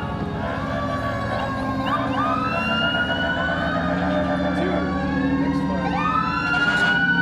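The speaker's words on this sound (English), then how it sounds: "This is one of their emergency trucks." Several fire engine sirens wail together at a town autumn festival parade, overlapping rising and falling tones, loud and close, with a low truck engine rumble underneath.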